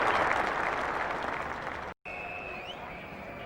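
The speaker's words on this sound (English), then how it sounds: "Warm applause all the way around, and England teammates standing," Cricket crowd at a Test match giving warm applause all around the ground for an England player, a dense, steady wash of clapping that briefly cuts out and then resumes more thinly.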